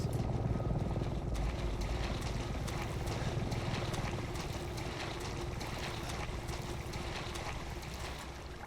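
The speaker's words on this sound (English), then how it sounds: "Helicopter." Steady, continuous helicopter rotor drone from the video game Resident Evil 7, with a rhythmic beating thud over a broad rumbling wash, sustained throughout without speech.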